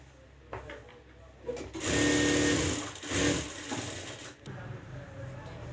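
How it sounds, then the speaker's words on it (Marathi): A sewing machine stitches fabric for a boat-neck blouse back, tacking the centre of a square panel in place; a short mechanical run of rapid needle strokes starts and stops, close and fairly loud, with a brief second burst and quiet pauses. "त्यानंतर आपण पूर्ण स्क्वेअरला टीप मारून घेणार आहोत."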